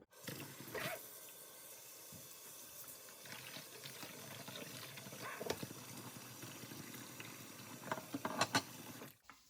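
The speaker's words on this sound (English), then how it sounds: "So we're gonna run some cold water in here until I can actually handle it." Cold tap water runs into a still-hot crock pot insert, a faint, steady splashing rush with small clinks and knocks scattered through it, then stops abruptly at the end.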